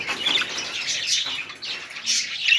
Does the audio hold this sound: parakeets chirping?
yes